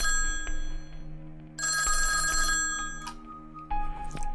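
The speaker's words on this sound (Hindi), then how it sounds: "ये फोन किसका आ गया?" A telephone rings in a domestic drama scene, a loud, close electronic ringtone with repeated bursts of tones, alone and without talk.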